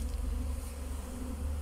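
Honey bees at a family apiary in spring hum as a dense, continuous swarm drone close by, steady and unbroken with no voices over it.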